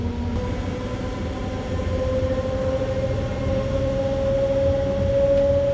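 A MEMU express train runs between Bhimavaram Junction and Machilipatnam, heard from on board as a loud steady rumble with a sustained tonal whine rising slightly over several seconds.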